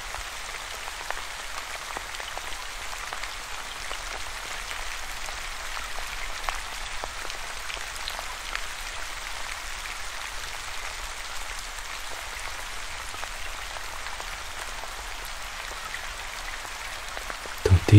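Rain falling steadily on a rainy night, a dense, even hiss of drops with light patter throughout, continuous and unbroken, with no voices.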